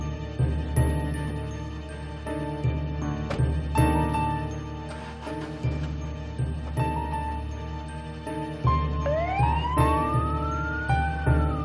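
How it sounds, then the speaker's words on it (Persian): An ambulance siren wails loud and close on a street, its repeating tone cycling steadily and then sweeping upward near the end, with no one speaking over it. "آها آمبولانسه؟"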